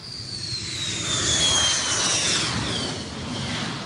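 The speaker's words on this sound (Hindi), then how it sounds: "पाकिस्तान एयरफोर्स के मिराज और F-7 फाइटर जेट्स ने सड़क से टेक ऑफ किया" Pakistan Air Force Mirage and F-7 fighter jets taking off from a highway: a steady, loud jet roar with a high whine that swells and fades slightly, with no other sounds.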